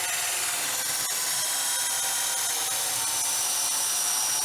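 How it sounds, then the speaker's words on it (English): Power drill with a short bit in a 90-degree right-angle head boring a pilot hole under an 81 Ford F100 truck, a steady continuous whine held close and fairly loud for several seconds. "Got a really short drill bit in this 90-degree drill."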